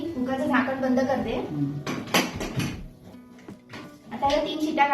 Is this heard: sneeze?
no